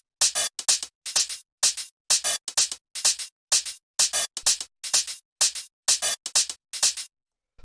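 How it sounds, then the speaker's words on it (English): Four layered hi-hats in a synth-heavy tech house track play alone, crisp bright hits in a steady repeating pattern of short bursts and paired ticks, close and clean with silent gaps between. "After that, we have the hi-hats, which there's 4 of them, and they sound like this."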